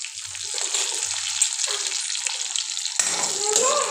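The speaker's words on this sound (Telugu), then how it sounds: "ఇప్పుడు తాలింపు వేగుతుంది కదా, అందులో ఇప్పుడు 2 పచ్చిమిరపకాయలు 2 ఎండుమిరపకాయలు వేసుకున్నాను" A tempering of green chillies, dry red chillies, chana dal and urad dal sizzles and crackles loudly in hot oil in a pan for gongura pachadi, with a brief stirring scrape near the end.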